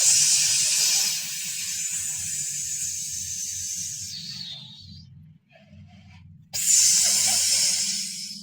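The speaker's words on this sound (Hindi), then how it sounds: "मुझे तो ऐसे लग रहा है कि किसी सांप की आवाज है।" A snake hisses in a loud, steady, breathy stream for about four seconds, fades out, then a second hiss bursts in abruptly near the end, all over a low droning background.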